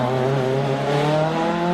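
A Chevrolet Nova hillclimb race car at Prescott powers up the course with a loud, sustained, steady engine roar close by, no talk over it.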